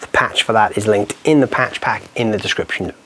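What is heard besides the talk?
No everyday noise stands out behind the speech.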